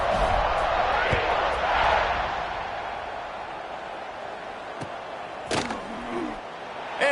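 Football stadium crowd at an NCAA game around kickoff, a broad steady roar filling the space, swelling briefly early on, with a sharp thump or whistle-like burst later.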